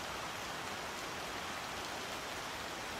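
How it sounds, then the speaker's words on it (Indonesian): Heavy rain pours steadily onto the roof of an old boarding house at the edge of town, a dense, continuous hiss of drops with no breaks or voices. "Hujan turun deras malam itu, mengguyur atap rumah kos tua yang berdiri di pinggir kota"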